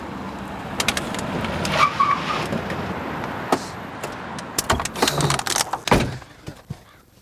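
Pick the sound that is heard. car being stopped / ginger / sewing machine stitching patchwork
car being stopped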